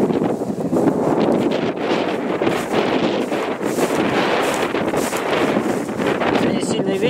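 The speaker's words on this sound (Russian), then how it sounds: "Сегодня сильный ветер будет, потом будет заглушать, наверное, всю съемку мою." Loud, continuous wind buffets the microphone beside a pond, a roaring rumble that barely lets up for the whole stretch.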